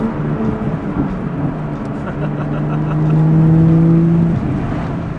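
A BMW M2 with an N55 engine and stage 2 tune, front-mount intercooler and intake revs from inside the cabin, a loud steady drone that swells and climbs in pitch before easing off.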